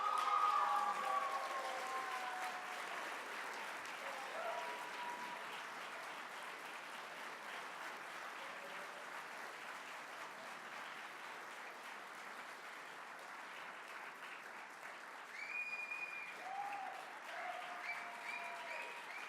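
A large audience at a liberty-movement awards dinner in Mexico City claps steadily for the whole stretch, a dense, sustained wash of applause that dips slightly midway and swells again near the end.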